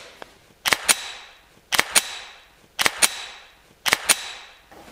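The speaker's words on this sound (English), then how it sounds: "Here's what it sounds like when you have a magazine with bullets that goes into the gun." Pistol with a magazine of bullets being inserted: four repeated pairs of sharp, close metallic clicks, each pair followed by a short ringing decay, with no talking.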